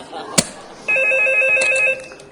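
A telephone rings once as a steady electronic tone lasting about a second, close and clear, after a sharp click, with a voice briefly heard nearby.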